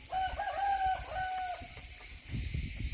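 Roosters crow in a chicken coop in Muğla, Turkey, with one long wavering crow rising and falling at close range, followed by softer clucking and coop noise. No one speaks.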